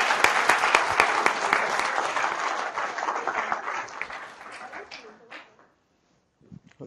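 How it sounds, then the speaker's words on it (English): Audience applause for the panelists at a meeting, a dense burst of many hands clapping that holds steady, then thins out and stops, followed by a few faint sounds. "may have a big round of applause for our panelists"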